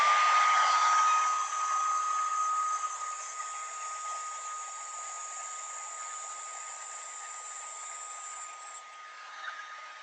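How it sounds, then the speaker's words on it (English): A blow dryer runs steadily at close range, a constant airy whoosh with a thin high whine that holds level, then eases slightly toward the end, with no talking over it. "give me 2 seconds here to use the blow dryer"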